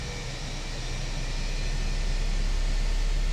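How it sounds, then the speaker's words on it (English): Simulated Airbus A319 engine lighting up and spooling in a flight simulator game at London Heathrow, a broad steady roar with whining tones that slowly builds in loudness, with no talking. "And we have ignition. You can really hear that nicely."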